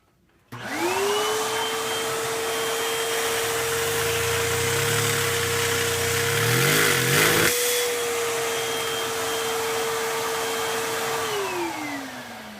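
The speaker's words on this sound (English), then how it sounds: "I'm just gonna be removing one of the gears and then just make it explode." A LEGO vacuum engine in a 1955 Chevy model, run with one gear removed, spins up to a steady high whine, rises in pitch, then cuts off abruptly and winds down, loud and close, without talk.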